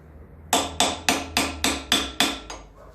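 Eight sharp metallic hammer strikes ring out at a steady, even rhythm, close and loud, as a wheel bearing is driven into a Land Rover Series 3 rear hub.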